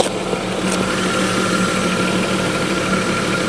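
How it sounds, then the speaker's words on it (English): A 2.4 V6 engine in an Audi A4 Cabrio idling with the bonnet open, a steady, even hum with a faint ticking rhythm, close and continuous, with no one talking. "So we've got a running engine."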